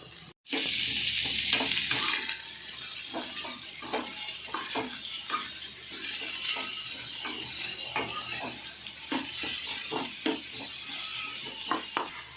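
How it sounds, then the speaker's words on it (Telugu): Onions frying in oil for a biryani: a steady, close sizzle runs throughout, broken by repeated scrapes and clicks of stirring in the pan, with no talking. "ఇక్కడ ఆనియన్స్ అయితే వేగుతున్నాయి."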